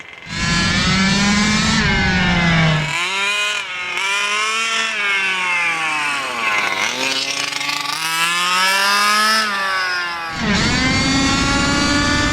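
A giant gas-powered RC truck engine revs hard and loud, its harsh buzzing note rising and falling through repeated throttle blips, dropping briefly to a lower idle between bursts before screaming back up.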